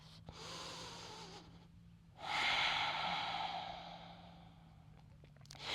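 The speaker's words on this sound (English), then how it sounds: "One more breath." Slow, deep breaths during a yoga stretch come up close: a long airy inhale, a pause, then a fuller, louder exhale that fades out gradually, over a faint steady hum.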